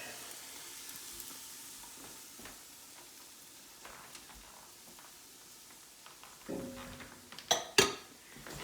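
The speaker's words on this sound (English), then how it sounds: "Now we'll stir all that around in the butter and let that all simmer for a few minutes." Onions in butter sizzling faintly in a pot for cream of mushroom soup, with scattered soft stirring scrapes and a few louder spoon clinks against the pan near the end.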